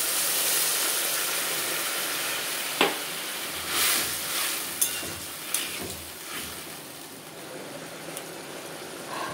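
Water poured into a pan of frying mixed vegetables gives a steady, hissing sizzle with scattered sharp pops and crackles, close and fairly loud throughout.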